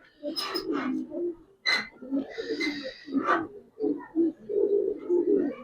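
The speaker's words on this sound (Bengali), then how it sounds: "দুইটা মাদি কবুতর দেখেন মাশাআল্লাহ" Two khaki female pigeons coo up close in a run of throaty, rolling bursts with brief gaps between them.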